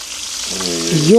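Food fries in a pan with a steady, close sizzle, and a voice starts speaking over the crackling near the end.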